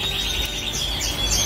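A canary chick chirps in thin, high, rapid peeps, close and fairly loud, over a soft background hum.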